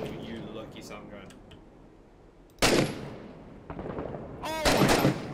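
RPK machine gun fire in the video game Six Days in Fallujah: a sharp loud blast mid-clip, then a rattling burst and another heavy report, with people talking over the shooting throughout.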